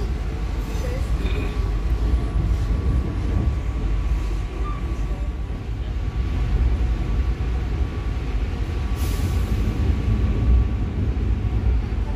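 Inside a carriage of the Cikuray passenger train in Indonesia, a steady loud rumble and rattle of wheels on track runs the whole time, with a faint tone threaded through it.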